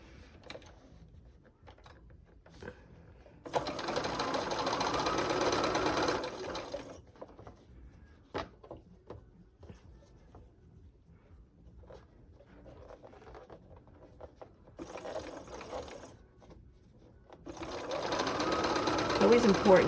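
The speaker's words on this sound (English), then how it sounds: "Always important to sew straight." A sewing machine stitches quilt seams for a glorified flower patch block, running in two loud sustained bursts with a shorter one near the end, separated by quieter stretches where a person talks.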